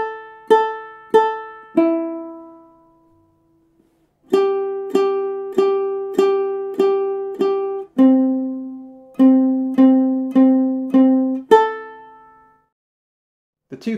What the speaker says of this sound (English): I'm going to be using a plectrum today to play the melody